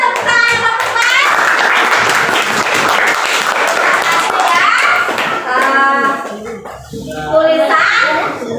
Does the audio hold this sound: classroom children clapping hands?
yes